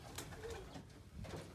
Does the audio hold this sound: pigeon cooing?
yes